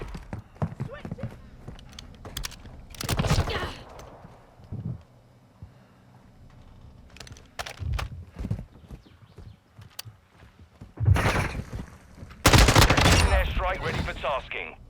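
Gunfire from the LSA TX-15 DML marksman rifle in Call of Duty Modern Warfare II comes in loud bursts amid busy game noise, with quieter stretches and clustered shots near the end.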